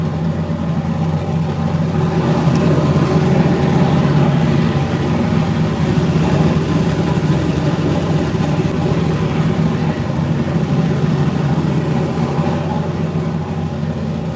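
A fuel-injected car engine idles steadily as it warms up, a continuous mid-to-low rumble heard close and fairly loud throughout with no clear revving.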